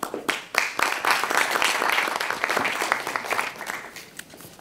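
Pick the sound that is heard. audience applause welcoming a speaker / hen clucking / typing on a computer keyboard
audience applause welcoming a speaker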